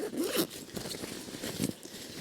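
The front zipper on a backpacking backpack is pulled open in a few quick rasping strokes, close and fairly quiet, with light fabric rustle between pulls.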